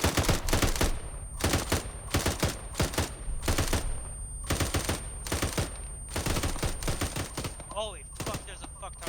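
Heavy gunfire rattles through an ArmA 3 firefight: repeated loud bursts of automatic fire in irregular volleys, with short gaps between them and some spoken voices near the end.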